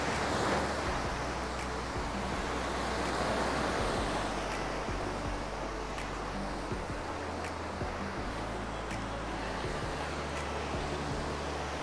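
Surf rolls onto Playa Akumal beach a day after Hurricane Beryl, a steady, dense roar of breaking waves with some wind buffeting, continuous and fairly loud with no talking.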